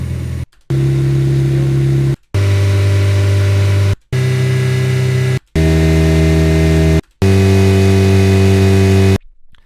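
Recorded car engine loops in neutral, sampled at 1000 RPM intervals: six steady droning tones separated by brief silences, each a sustained hum that holds its pitch, with the drone stepping higher from segment to segment.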